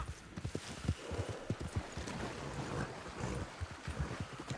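Horse hooves in Red Dead Online clop in a quick, uneven rhythm across the ground, close and prominent over a windy outdoor ambience.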